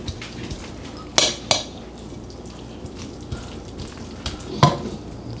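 A spoon stirs melting cheese in a pot for a pizza casserole, giving a soft bubbling sizzle beneath a few sharp metallic clinks and scrapes of the spoon against the pan, close up and without talk.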